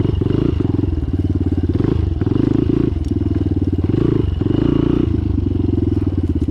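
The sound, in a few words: street motorcycle riding off-road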